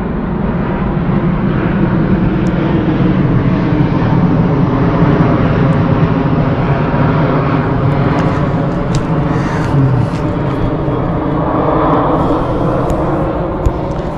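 Airplanes pass overhead above a walking trail, producing a loud, continuous, broad roar that holds steady throughout, with faint handling noise at times and no talk.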